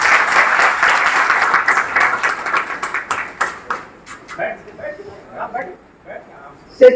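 A hall audience at an elders' honouring ceremony gives hearty applause, dense clapping for about three seconds that thins into a few scattered claps before fading, with a voice starting to speak over the tail.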